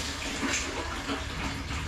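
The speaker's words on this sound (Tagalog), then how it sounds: "Mahina pang tubig guys." A tap runs with only a weak flow, giving a faint, steady hiss and splash of water that continues unbroken throughout.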